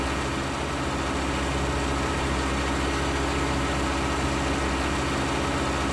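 A big-engined tractor in Farming Simulator 19 idles with a steady, dense low rumble that holds constant and loud throughout, with no talk over it.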